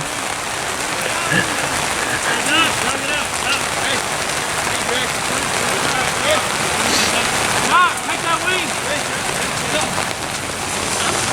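Steady rain hisses across a sports practice field in a constant, dense wash, with distant voices and activity faintly mixed underneath.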